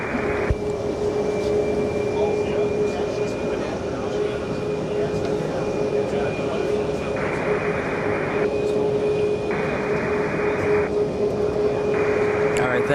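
A Korean Air airliner takes off at JFK airport with a loud, steady jet engine roar that persists throughout, alongside a constant high whine.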